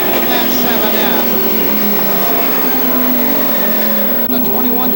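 Pro stock race cars roar around a speedway during a night heat, a loud continuous engine drone with shifting pitches as cars pass, with a commentator talking over it throughout.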